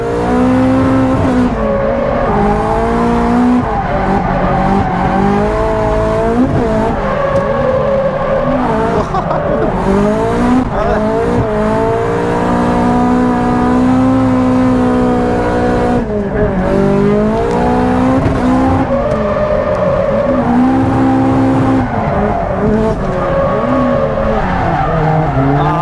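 A drift car on budget tires priced around ten thousand yen slides continuously, with loud, sustained tire squeal mixed with engine revving that rises and falls for the whole stretch.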